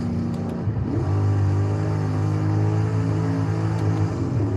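A stock car engine held at high RPM: a steady, loud, droning rev that holds its pitch throughout, with a slight rise partway through and no speech.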